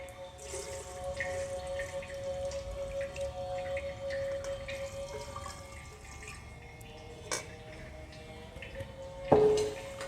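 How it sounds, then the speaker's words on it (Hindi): Warm Ayurvedic Shirodhara liquid trickles and drips steadily from a suspended vessel, a soft continuous dribble with faint tap-like drips, ending with a brief louder splash near the close. "अब हम इस द्रव्य को इस सिरोधारा पात्र में डालेंगे।"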